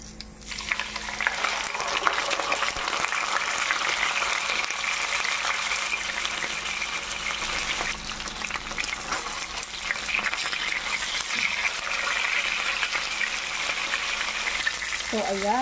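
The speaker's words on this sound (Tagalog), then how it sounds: "So ipiprito ko muna itong talakitok. Lalagay ako ng oil." A large talakitok fish fries in hot oil, giving a loud, continuous crackling sizzle that holds steady throughout, close by and with no clear talk.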